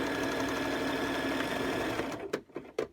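A sewing machine runs steadily as it stitches down the edge of a homemade fabric face mask, then stops and gives a few short bursts at the end.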